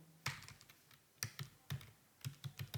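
Keys on a computer keyboard are tapped in short bursts of clicks while text goes into an Excel cell, quiet and close with brief pauses between groups of strokes.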